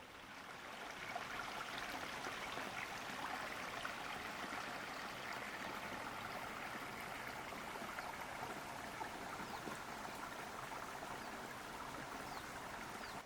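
A babbling brook flows steadily close by outdoors, a continuous bright rush and trickle of water that stays level and even throughout with no voices.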